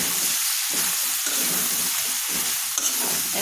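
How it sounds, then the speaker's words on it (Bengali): Chicken meat sautéing with chili powder in a pan gives a steady, close sizzle and frying hiss, broken by rhythmic stirring scrapes, with no voices. "এখন আমি মাংসটা ভালোভাবে কষিয়ে নেব।"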